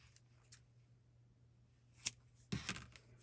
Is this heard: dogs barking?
no